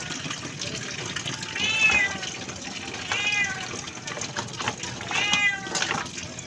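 Pet cats fight with three drawn-out yowling cries spaced a second or two apart over a constant background rush.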